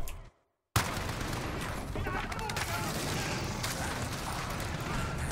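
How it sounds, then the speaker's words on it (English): Dense, continuous gunfire in the Modern Warfare realism campaign video game, rapid overlapping shots and mechanical clatter filling the scene loudly after a brief silence at the start. "I have no idea where I'm being shot from."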